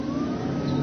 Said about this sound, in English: the motor sounds like a little sports car